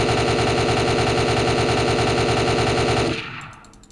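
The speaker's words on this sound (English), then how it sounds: "Let me waste all my bullets at least." Rapid automatic gunfire in the video game R.E.P.O., a loud continuous burst of evenly spaced shots for about three seconds that then stops abruptly, leaving a brief fading tail.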